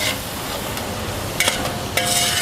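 Avial vegetables cooking in coconut oil, with curd added, giving a steady low sizzle with light stirring and a couple of brief utensil clinks.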